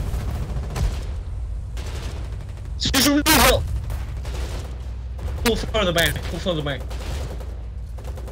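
Gunfire in the war game Foxhole: repeated shots and bursts crack out in clusters over a low rumbling battle background, with people talking over voice chat throughout.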